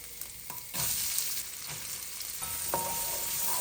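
Onions hit hot ghee with cumin seeds and sizzle loudly and steadily, with a few stirring scrapes in the pan.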